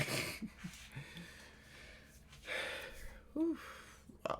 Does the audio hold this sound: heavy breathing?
yes